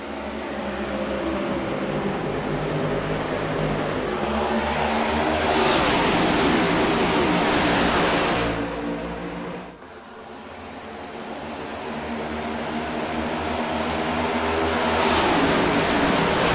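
Pack of NASCAR Cup stock cars roaring off at the start of the Daytona race, a dense sustained engine drone that swells past, dips briefly, then builds again.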